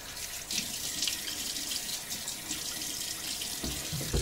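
Cold tap water runs steadily into a sink and splashes onto a face before a shave, a close, continuous rush broken by a few heavier splashes.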